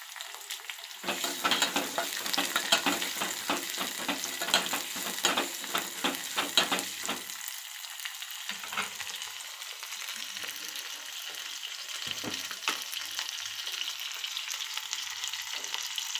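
Tomato and garlic frying in a pan, first a busy crackling sizzle with stirring clatter, then easing into a quieter, steadier frying hiss with occasional stirs.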